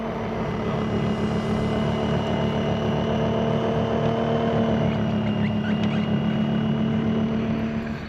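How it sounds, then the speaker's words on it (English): A Yarbo robot snowblower works slowly through snow with its front auger, giving a steady droning motor hum with a strong low tone that holds evenly throughout, with no talk. "So the reason it's going so slow is when it detects that there's a fair amount of snow in the front auger, it slows down to be able to process it out."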